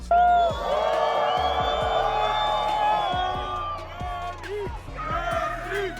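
A large concert crowd at a show in Chile cheers and whoops loudly and steadily, with many voices shouting together and swelling again toward the end.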